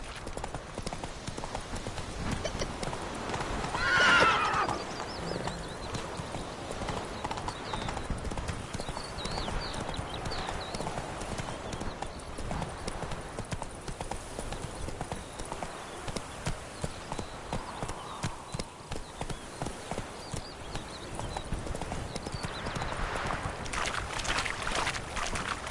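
Horse hooves clip-clop steadily at an even trot through the whole stretch in The Witcher 3, evenly paced over a faint background wash.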